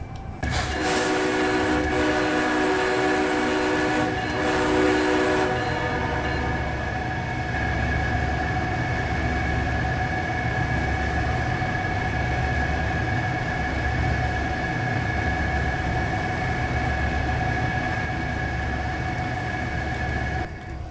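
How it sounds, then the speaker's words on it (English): A steady mechanical hum and rhythmic chugging of a train air compressor on Canadian GEVO locomotives in Train Simulator run throughout, with a brief horn-like tonal blast near the start. "That air compressor sound."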